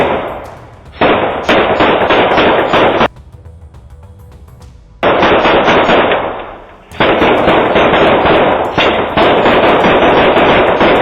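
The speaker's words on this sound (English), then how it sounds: "They opened fire simultaneously, striking Gamble and causing him to collapse." Police gunfire in a shootout: loud, dense bursts of rapid shots come in several volleys separated by brief lulls, sharp and close throughout.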